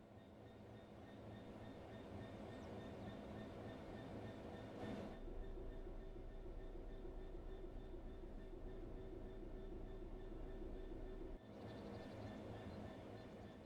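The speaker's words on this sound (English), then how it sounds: "The train will then coast on level ground, and the train will only slow down very gradually" A train coasting on level track in the Train Sim World 3 simulator, with a steady low rumble and faint wheel noise and hum. It is continuous and fairly quiet, with one brief shift in tone midway.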